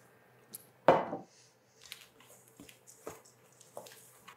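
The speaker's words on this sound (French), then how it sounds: "On brasse ça encore." Spoon stirring a dessert mixture of dates, pecans and maple syrup in a dish: one sharp clunk against the bowl, then soft, sparse scrapes and taps close by in a quiet room.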